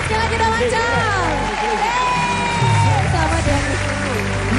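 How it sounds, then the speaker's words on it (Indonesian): A studio audience on the Indonesian TV dating show Take Me Out claps and cheers for several seconds, with music and a host's voice running over the crowd noise. "Kita berikan tepuk tangan sekali lagi"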